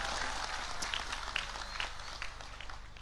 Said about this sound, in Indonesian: Tepuk tangan untuk Kaliwungu.